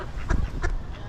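Ducks in a city park in Moncton quack twice in quick succession, two short nasal calls at close range over a faint outdoor background with no talk.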